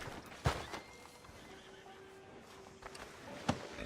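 In the Red Dead Redemption 2 video game, a horse gives a short whinny and snorts while hooves clip-clop on the ground, with two sharp hoof thuds standing out against a quiet background.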